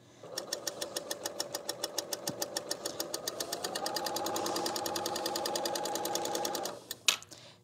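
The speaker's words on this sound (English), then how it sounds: "when we quilt on the serger, we need to be exact just like on the sewing machine." A serger sewing machine quilting fabric runs in a rapid, even mechanical rhythm of needle strokes that speeds up partway through, then stops with a brief clack at the end.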